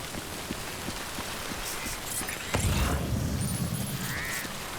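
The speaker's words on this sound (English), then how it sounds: "Of course it's raining." Steady rain hisses through a Death Stranding game scene, continuous and moderately loud, with a few distant crow caws and a deeper rumbling swell partway through.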